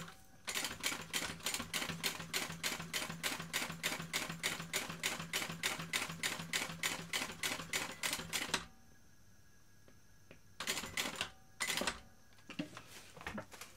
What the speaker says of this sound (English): So I'm just going to sew an eighth of an inch from that edge